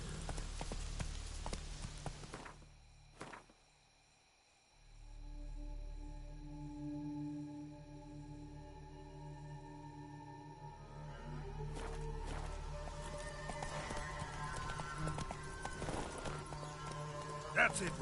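Roach the horse's hooves clip-clopping in The Witcher 3, a steady rhythmic trot under game music and ambience, with someone speaking over it.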